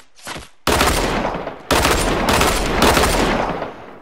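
Gunfire in a Fortnite Battle Royale match with dual pistols, a brief shot followed by loud, dense bursts of rapid fire filling several seconds close by.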